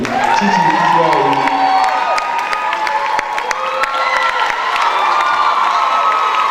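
A theatre audience cheers and whoops for a stage manager at a stage production's curtain call, with sustained crowd roar, shouting voices and scattered clapping filling the room throughout.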